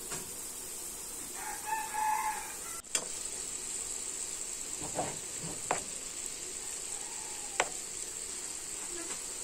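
Fish sizzles steadily in a pan with a bright, continuous hiss, broken by a sharp clatter and a few scraping stirs, while a rooster crows faintly in the background.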